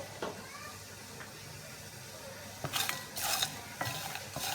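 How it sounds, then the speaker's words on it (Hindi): Whole spices for chicken nihari lightly roasting in a pan, a low steady sizzle with a few louder rattling, stirring bursts toward the end, close and quiet. "दूसरी तरफ मैंने एक पैन रखा है, जो मैंने आपको मसाले बताए थे इसे हम हल्का सा भून लेंगे"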